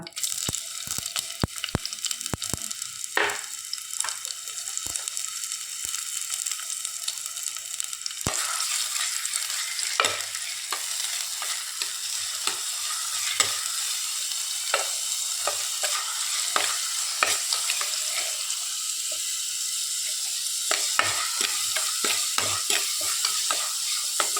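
Onions frying in a pan for a Mangalore-style chicken soup, a soft continuous sizzle broken by frequent scraping knocks of a spoon as they are stirred, close and fairly quiet with no talking.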